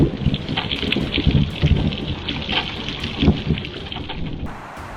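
A heavy thunderstorm right after a lightning strike hits a tree on a street, with steady loud rain pouring down under low rolling thunder and gusts of wind, and no voices.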